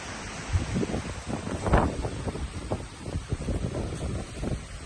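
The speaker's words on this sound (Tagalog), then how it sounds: "Lakas talaga ng hangin." Strong gusty wind buffets the microphone in uneven rumbling bursts on an overlook in Lopez, Quezon, loud and close, with a faint watery wash underneath.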